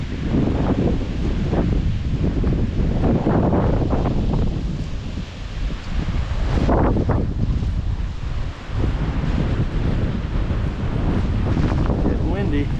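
Strong wind on a snowy day buffeting a microphone outdoors, a steady roaring rush with gusts swelling and easing throughout.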